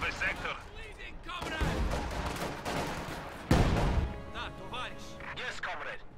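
Su-76 artillery shells bombarding an area in a real-time strategy battle game, a thick wash of blasts and impacts with a heavy booming hit midway, layered with other battle noise and talk.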